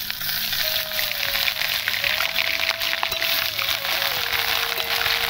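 Ginger-garlic paste drops into hot oil for chicken biryani and sizzles loudly and steadily, a dense frying crackle that holds throughout with a faint tonal whine in the background.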